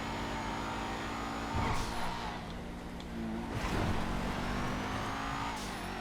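A car drives past in the racing game GTA FiveM, its engine rising and falling in two broad swells over a steady motor drone as it nears and recedes.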